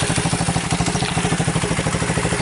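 A small M2R KXF110 pit bike engine idles in neutral, a close, loud, steady rapid chugging with a mechanical clatter running throughout.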